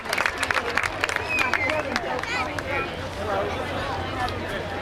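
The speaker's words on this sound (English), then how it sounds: "Give a big round of applause, everybody." Steady applause from a crowd at the Calaveras County Fair frog jumping finals, with scattered cheers and chatter, continuous and fairly loud throughout, with some whistling and voices mixed in.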